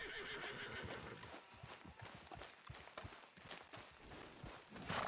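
A horse in Red Dead Redemption 2 lets out a loud whinny over the clatter of hooves, which keep up a fairly quick, uneven beat close by.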